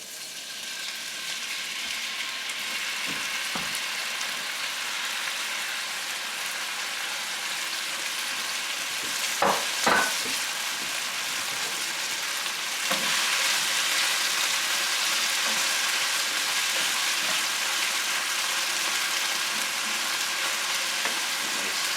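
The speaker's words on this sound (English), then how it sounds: "So I'm going to add these shrimps." Raw shrimp frying in a pan for shrimp fried rice, a steady close hiss of sizzling that runs without a break, with a few brief clinks of stirring partway through.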